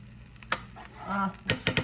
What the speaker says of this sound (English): I'm gonna make a mess and make it sizzle.